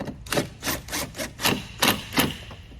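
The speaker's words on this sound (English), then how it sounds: "Now I can run my bottom bolts in, and then we'll tighten everything by hand." Bolts threaded by hand into a flip-flop pontoon boat seat, giving a series of about eight short scraping, rubbing bursts at a steady rhythm, close and moderately loud, with no talking.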